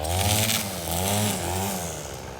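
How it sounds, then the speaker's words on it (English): A petrol string trimmer cuts brush along a farm fence line, its engine whining loudly and steadily close by, the pitch dipping and rising as it bites into growth. "Apparently Charlie is not fond of the trimmer"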